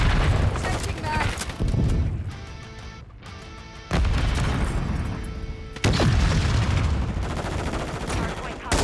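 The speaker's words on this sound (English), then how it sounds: "Hostile mortar strike near your position." Heavy explosions and rapid gunfire roar through a Call of Duty MW3 match as mortar strikes hit, loud and dense with brief lulls between blasts, and game voices speak intermittently.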